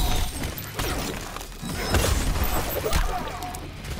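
Explosion in the fighting game Mortal Kombat X, a heavy shattering blast with thuds and crashing debris, loud and booming amid ongoing game effects, with a second impact near the end.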